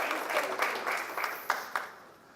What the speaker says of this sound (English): So let's have a nice round of applause for our photographers.